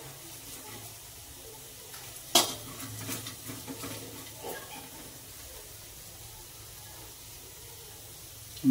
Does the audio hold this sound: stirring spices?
yes